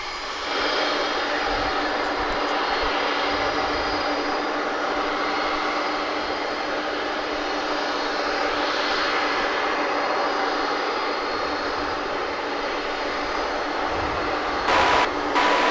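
A UPS MD-11 cargo jet at DFW runs its engines with a steady, loud droning whine and low rumble, holding constant for the whole stretch.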